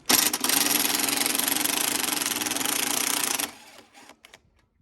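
Impact wrench loosening bolts on a Toro Recycler lawn mower engine case, run in one sustained, loud rattling burst of about three and a half seconds before cutting off, followed by a few faint clicks.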